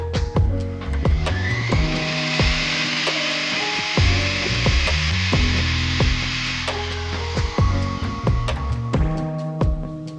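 A graver's face held against a spinning polishing lap, a continuous grinding rub with repeated clicks and knocks as the tool is set down and realigned, close and fairly loud, with no talk.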